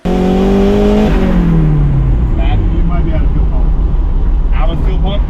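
A turbocharged Mazda Miata accelerates hard on a test drive, a loud engine climbing through the revs with a gear change, then droning on with faint squeals, under speech.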